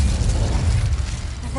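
A short, loud whooshing burst of flame from the Incendio fire spell being cast in Hogwarts Legacy, a dense roaring blast with a low rumble that fades slightly over a second and a half.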